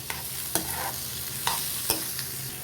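Green chillies sautéed in a pan for coriander chutney, a soft steady sizzle under a few sharp stirring scrapes, close by, with no voices.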